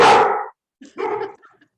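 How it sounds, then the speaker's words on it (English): A loud dog gives one strong, close bark followed by a couple of smaller, fainter bark sounds, with no talking. "I have a loud dog."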